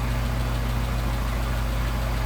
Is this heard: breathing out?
no